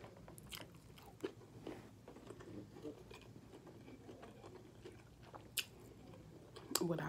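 Close, faint chewing of sushi at a lunch table, with soft crunchy bites and mouth sounds scattered through the quiet, punctuated by a few sharper clicks.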